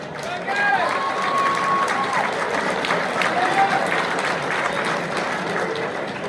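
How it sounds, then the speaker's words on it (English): A banquet audience at an AMA District 14 amateur motorcycle racing awards night claps steadily for a points champion, a dense, moderately loud wash of applause that runs throughout, with some cheering and voices mixed in. "Give a round of applause, guys."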